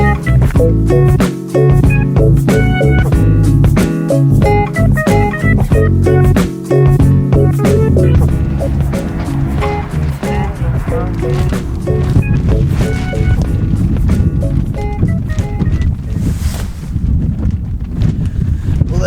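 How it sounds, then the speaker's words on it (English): A tarp rigged as a shelter cover flaps and rattles hard in strong wind, a loud continuous buffeting roar with rapid flutters and snaps, close to the microphone throughout. "Tarp ain't the quietest thing in the world now, is it?"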